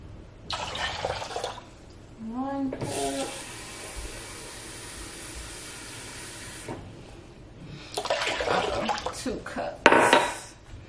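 Tap water runs into a pot of white vinegar for pickling onions, a steady hiss of pouring lasting several seconds, bracketed by clinks of dishes and pans in a home kitchen.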